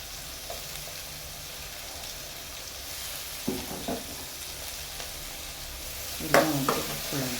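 Capsicum and carrot frying in hot oil for chitranna give a steady close sizzle, with a few stirring scrapes and clatters, a louder burst of stirring near the end.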